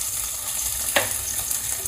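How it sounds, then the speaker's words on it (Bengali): Cashews and raisins fry in hot oil with a steady, even sizzle, broken by one brief sharper crackle midway. "কাজু বাদাম কিশমিশ ভাজা"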